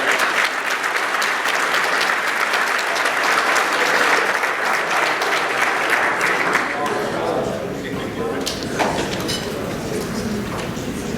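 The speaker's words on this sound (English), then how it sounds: "About a round of applause for the seniors of the men's lacrosse program." A room of guests at a 2017 senior student-athlete luncheon applauds the men's lacrosse seniors with steady, dense clapping that holds strong for several seconds, then eases slightly while continuing.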